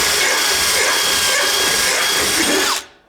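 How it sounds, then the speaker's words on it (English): A battery-powered drill whirs loudly and steadily with a rasping, grinding edge from a rat tail file spinning in its chuck against material, then stops abruptly and winds down. "rat tail file in a drill."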